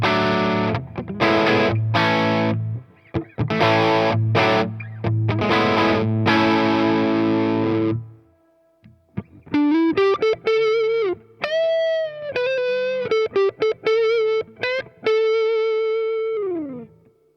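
Epiphone Les Paul Custom Widow electric guitar played loud and overdriven, first thick distorted chords in a choppy rhythm, then sustained lead notes with bends and vibrato, alone with no talking.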